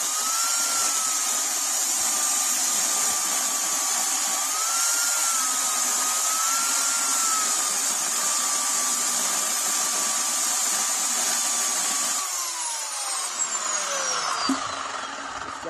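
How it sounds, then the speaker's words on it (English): A BLACK+DECKER 18-inch, 15-amp corded electric chainsaw runs at a steady high-pitched whine while cutting wood, loud and continuous, then winds down as the motor slows near the end. "Seems like for electric saw, a chainsaw's got a lot of power"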